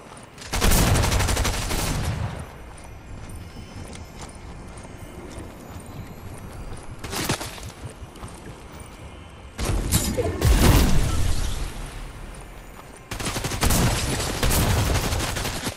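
Rapid video game shotgun and gunfire blasts in loud repeated bursts, separated by quieter stretches, harsh and close.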